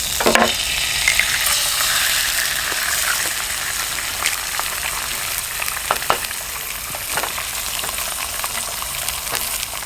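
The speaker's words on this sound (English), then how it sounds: "all we're going to do is just throw a little bit of butter in the skillet" Butter sizzles in a hot Pathfinder carbon steel skillet, a steady hissing crackle with scattered sharp pops, close and moderately loud, no talking.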